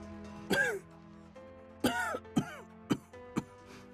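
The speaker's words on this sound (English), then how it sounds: "I had heard that cough many times before, but now the coughs were coming from Xian's mouth." Harsh coughing and throat clearing, several separate fits spaced across the clip, close and fairly loud over a low steady background hum.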